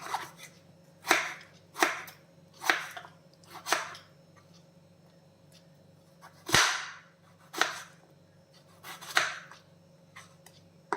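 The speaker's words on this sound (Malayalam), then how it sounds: "ഇതിനെ ചെറിയ ചെറിയ പീസസ് ആയിട്ട് കട്ട് ചെയ്യണം" A knife chops chow chow (chayote) into small pieces on a board, about nine crisp, separate cuts at a loose, uneven pace over a faint steady hum, with no talking.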